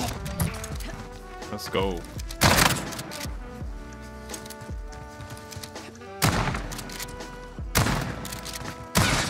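Video game gunfire aimed at a forklift sounds as several loud, sharp blasts spaced a few seconds apart over a background of game noise, with a player talking briefly.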